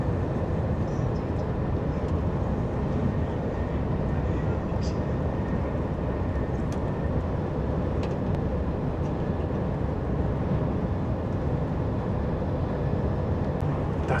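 Inside a TGV Lyria high-speed train at 317 km/h, a steady low rumble and airy hum fill the cabin at moderate level, even and continuous, with faint light rattles.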